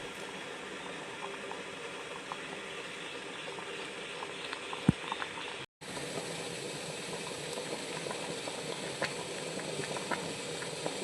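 Thrissur-style roasted-coconut sambar bubbles in a pot, a steady soft simmering hiss close by with no voices. A brief break in the sound comes about midway.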